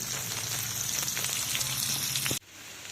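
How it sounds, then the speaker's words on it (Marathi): Onion sautés in a pan for a crumbled bhakri chivda, giving a loud, dense sizzle with light stirring clicks that cuts off abruptly near the end, leaving a faint hiss. "आपण पहिला कांदा चांगला परतून घेऊ"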